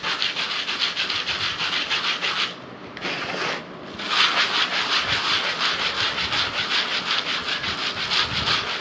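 Close, steady back-and-forth rubbing on a still-damp textured art surface, a rough scratchy sanding rhythm that keeps going with one short pause partway through.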